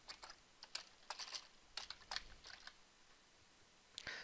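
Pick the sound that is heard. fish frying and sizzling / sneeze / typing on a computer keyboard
typing on a computer keyboard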